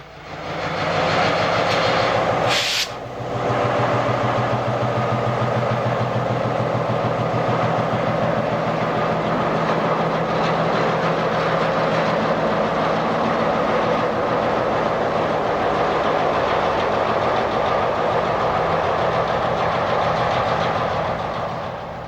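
Alco S4 diesel switcher locomotive moving through a Texas rail yard, a loud, steady engine rumble that continues for over twenty seconds, with a brief sharp burst near the start and no talk.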